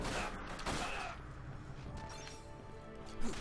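Gunfire in the video game Dirge of Cerberus, a rapid crackling fusillade of shots with sharp impacts, fairly faint and continuous across the scene.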